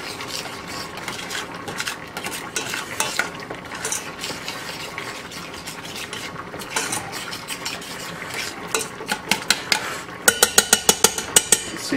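A utensil scrapes and clicks around a pan of onions being cooked for creamed onions, irregular stirring strokes that quicken into a sharp rapid tapping near the end, with no voices.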